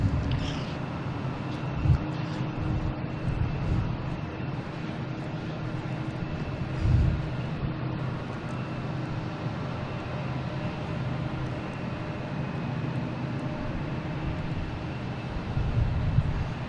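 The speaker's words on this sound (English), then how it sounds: "next to arrive here, we have a JetBlue coming in from Reagan" A JetBlue airliner arriving at Boston Logan International Airport, a steady distant jet roar holding evenly through the whole stretch with no voices over it.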